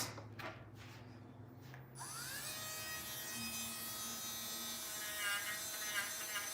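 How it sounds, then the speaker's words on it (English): A handheld Dremel rotary tool spins up to a steady high-pitched whine while polishing small pieces to a shine, running loud and continuous close by after a brief quieter start. "I did want to see what the Dremel would do."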